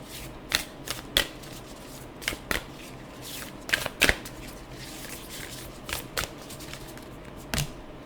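A deck of tarot cards being shuffled, with a series of sharp riffling bursts and crisp snaps spaced irregularly over a quiet background, close to the microphone.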